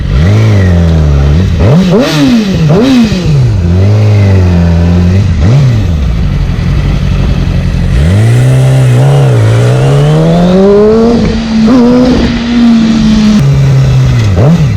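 Loud, close engine of a Yamaha R6 sport motorcycle revving repeatedly, the pitch surging up and falling back several times before a long sustained high-rpm pull.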